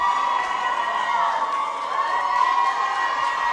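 A wrestling crowd at an indoor independent show cheers and shouts in a sustained roar, with scattered whoops rising over a steady wash of voices.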